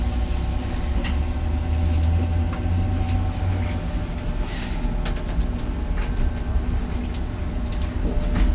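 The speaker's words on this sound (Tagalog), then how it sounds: "Igisa na po natin yung ating mga ricado. Siyempre po yung ating bawang." Continuous crackling sizzle of garlic sautéing in hot oil in a casserole pot, dense and close, with occasional sharper pops and clinks.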